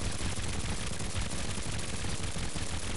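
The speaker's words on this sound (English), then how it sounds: "So this uses the recoil of a lot of guns." Guns mounted on a gun-powered plane in the building game Trailmakers firing in a dense, continuous rattling stream, loud and unbroken throughout with no talk.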